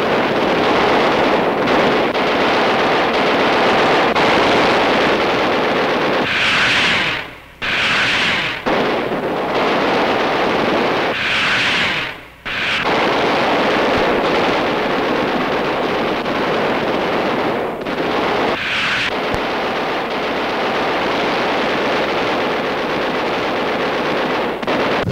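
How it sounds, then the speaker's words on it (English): Anti-aircraft guns hurl a heavy barrage skyward at enemy raiders in a wartime newsreel, a continuous roar of gunfire and blasts with a few sharper bursts standing out, loud and dense with no talk. "This is a sample of the terrific barrage now being hurled skyward to meet the enemy's raiders."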